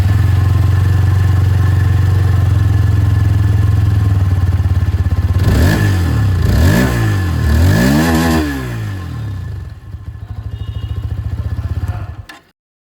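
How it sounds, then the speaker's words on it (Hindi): A 2026 160cc motorcycle idles with a steady, loud exhaust note close by, then the engine is revved in several rising and falling bursts before settling and cutting off, with no talking. "इसकी भी जो एग्जॉस्ट साउंड है वो मैं आप लोगों को सुना दूँ"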